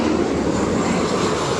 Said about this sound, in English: So now that that plane is gone